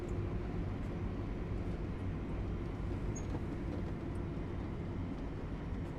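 A Thameslink Class 700 electric train runs in Train Sim World on the Southeastern Highspeed route, giving a steady loud low rumble and rolling drone that continues unbroken with no voices.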